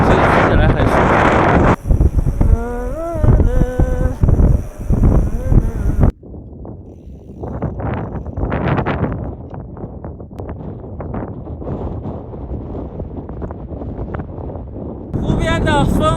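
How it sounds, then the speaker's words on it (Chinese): Strong wind buffets the microphone by a high-altitude salt lake in Ngari, roaring loudly in heavy gusts while cycling along a road, with a voice talking over parts of it. "湖边的风很大很大"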